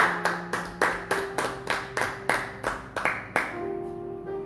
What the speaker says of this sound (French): You can clap for the Lord.